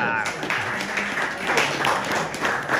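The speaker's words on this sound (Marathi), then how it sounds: "जोरदार टाळ्या वाजवा त्या खेळाडूसाठी." A crowd at a Katalpada Premier League 2024 cricket player auction applauds, a steady wash of clapping at moderate distance, with a voice speaking over it.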